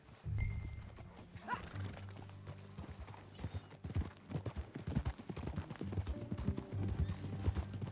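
Horse hooves clip-clop in a steady, fairly close walking rhythm as a rider travels in the Red Dead Redemption 2 video game, with a brief snort near the start and faint background ambience.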